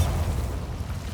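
A deep, booming blast from the Bombarda spell in the video game Hogwarts Legacy, a short, dense, low rumble that stays loud throughout.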